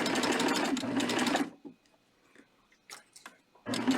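A serger overlocking the crotch seam of baby shorts: a loud, fast mechanical whirr for about a second and a half, soft handling clicks during a pause, then the motor starts again.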